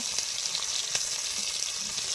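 Fish heads fry in oil in a pan aboard a river boat in the Sundarbans, a steady close hiss of sizzling with a few sharper crackles and pops, no voices.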